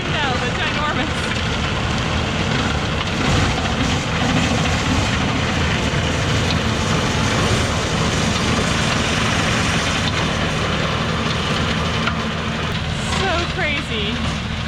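A John Deere tractor mowing down tall sweet gum saplings in an overgrown field, a continuous loud engine drone with crunching and snapping brush, while a person talks over it.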